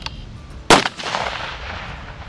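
A single loud 6.5 Creedmoor rifle shot fired at a 200-yard target in about 20 mph wind, a sharp crack followed by a short rolling echo that fades over the next second and a half.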